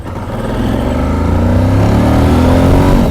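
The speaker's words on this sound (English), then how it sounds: "I had to roll the throttle on" A motorcycle engine revs up as the throttle is rolled on, the tone climbing and swelling from a low idle to a loud, sustained roar close by, with no voices.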